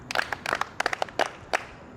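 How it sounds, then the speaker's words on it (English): A small class of junior high students claps for a classmate, a handful of sharp, uneven hand claps in quick bursts that trail off, close and distinct with no talk. "Okay, clap for her."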